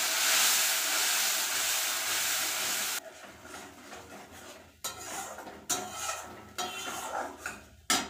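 Mustard paste and green chilli drop into hot oil with five-spice and dried chilli, for a tangy mourola fish dish; a loud steady sizzle fades into quieter spluttering with a few clinks of a utensil against the pan.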